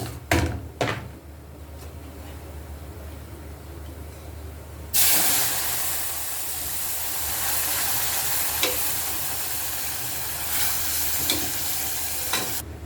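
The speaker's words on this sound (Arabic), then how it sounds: "هبدا انزل بقى عليه بالشوربه بتاعتي" Broth is poured into a pot of orzo fried golden in ghee. Soft clatter comes first, then a sudden loud sizzling hiss erupts and keeps bubbling steadily for several seconds.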